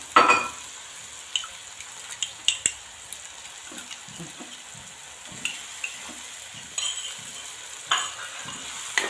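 A vegetable dish of cluster beans and green chickpeas sizzles gently in a pan as water is added and the mix is stirred, giving soft scraping stirs and quiet clicks over a low frying hiss, with no talk.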